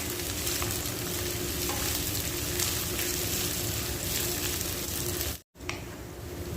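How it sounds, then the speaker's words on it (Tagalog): Garlic and onion sizzle steadily in a hot pan, a close, continuous frying hiss with faint stirring, briefly cut to silence before resuming. "makikita natin mga ka-recipe at gisang-gisa na yung ating bawang at saka yung sibuyas natin"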